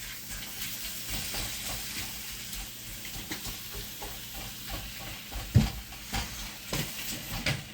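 Beef and vegetable fried rice sizzles steadily in a hot wok with scraping and stirring noises, one louder clank partway through, close and moderately quiet, with no voices.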